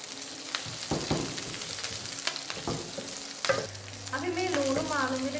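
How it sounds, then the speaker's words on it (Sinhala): Ginger, garlic, chili flakes and salt fry in oil for a devilled chicken dish, with a close sizzle broken by stirring clinks and scrapes and a brief tonal squeak near the end, without speech. "ඉඟුරු සුදු ලුණු මේ වගේ රන්වන් පාටට බැදීගෙන ඉද්දි අපි මාළු මිරිස් ටිකයි ලුණු ටිකයි මේකට දාගමු"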